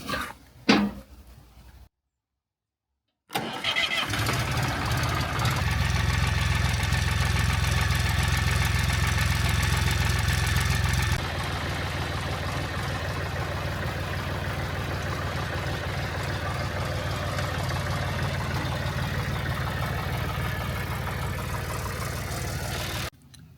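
An old John Deere 1520 tractor with a newly replaced starter cranks after a brief silence, catches and settles into a steady, loud mid-pitched idle that drops a little in level partway through.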